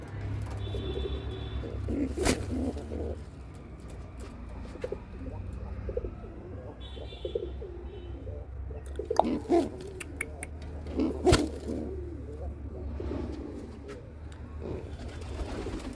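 Pigeons in a loft, including a Giribaz breed and fantails, coo softly and intermittently over a low steady hum. Occasional faint chirps and clicks come through, and a voice is barely present in the background.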